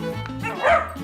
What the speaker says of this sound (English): The puppy is chasing the trolley,